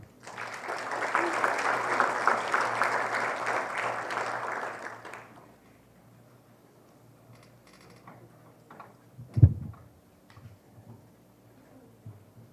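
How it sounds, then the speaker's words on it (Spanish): Loud applause from a crowd fills the first five seconds, then fades into a quiet room with a single sharp knock or thud near the end. "A quien recibimos con un fuerte aplauso."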